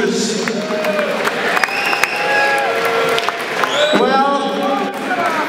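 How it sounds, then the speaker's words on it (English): A boxing crowd applauds both professional boxers after a ten-round welterweight bout, steady loud clapping with cheers filling the hall while a voice is heard over it. "A round of applause, please, ladies and gentlemen, for the efforts of both of our professional boxers."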